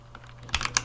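Java code typed on a computer keyboard, a short burst of a few quick key clicks, close and clear over a low steady hum.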